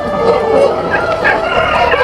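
A rooster crows at a poultry farm, a short, fairly close call rising over steady, noisy farmyard background, with other birds faintly audible around it.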